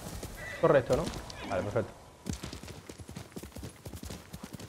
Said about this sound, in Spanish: Buen caballo. Buen pony.